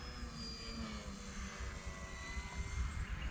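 A small 3D RC plane flying overhead, its propeller engine giving a steady droning whine with slowly shifting pitch, moderately distant and fairly faint, with no voices.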